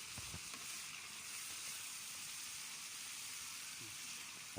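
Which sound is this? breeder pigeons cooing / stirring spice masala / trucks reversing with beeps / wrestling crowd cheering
stirring spice masala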